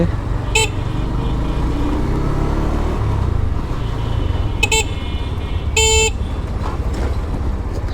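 Short honks from a GPX Demon motorcycle horn, three brief bursts over steady engine rumble and road noise, close by.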